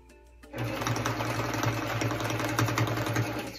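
A sewing machine starts up and runs at a steady pace, quilting straight lines around an applique. Its needle chatters in a continuous rapid rhythm over a low motor hum, loud and close.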